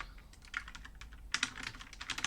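Typing on a newly replaced computer keyboard, rapid irregular clicky keystrokes close up, with a denser burst of keys partway through and no talking.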